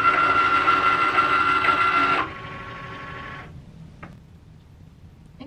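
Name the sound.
Cricut Maker cutting machine running a cut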